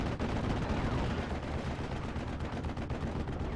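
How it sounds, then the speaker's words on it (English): P-51D Mustang strafing gunfire in a World War II video game, a dense rapid rattle of machine-gun bursts and impacts filling the whole stretch, loud and continuous with no pauses. "P-51D Mustangs coming in for another strafing run."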